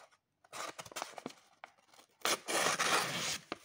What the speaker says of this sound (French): on va faire un petit essai déjà sur une feuille de papier